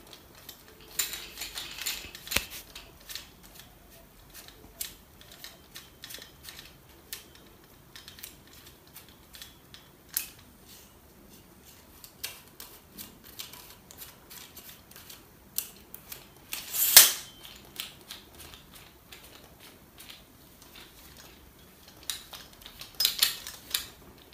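Screws on a camera tripod are tightened, producing scattered quiet clicks, ticks and small metallic rattles close up, with a few louder snaps between stretches of near silence.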